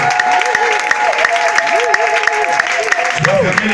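A church congregation applauds during a French-language worship service, sustained clapping under a loud voice and sliding sung or shouted tones, with steady rhythmic beats throughout.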